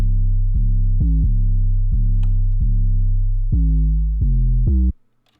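An 808 bass pattern programmed in FL Studio for a futuristic trap beat plays loud deep booming notes in an uneven rhythm, with pitch slides on several hits, and ends abruptly.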